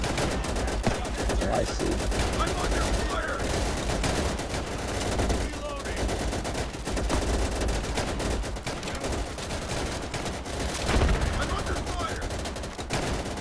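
Dense gunfire crackles through a World War II-style battle in the game Easy Red 2, with rapid machine-gun bursts and scattered shots filling the scene and a player speaking briefly over the din.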